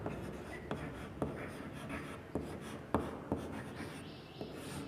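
Marker or chalk writing on a board during a statistics lesson, a series of sharp taps and short scratchy strokes at uneven intervals, close and fairly quiet with no talking.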